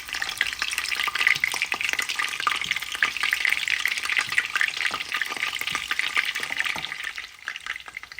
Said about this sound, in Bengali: মিটবলস আমি হালকা ডিফ্রস্ট করেছি, করে আমি হালকা তেলে ভেজে নিচ্ছি।